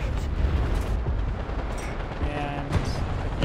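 Tank cannon fire in War Thunder, heavy booming shots with a dense rumbling battle backdrop, a couple of sharp blasts rising over continuous low roar.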